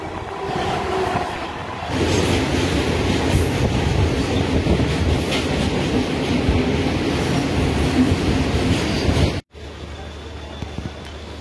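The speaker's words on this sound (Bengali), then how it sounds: "এই ট্রেনের ভাড়া হলো আসানসোল থেকে পুরুলিয়া পর্যন্ত মাত্র 25 টাকা।" A passenger train on the Asansol to Purulia line through hills and forest rumbles steadily with rolling wheel noise and faint clatter, loud and continuous before cutting off abruptly near the end; a voice is faintly present.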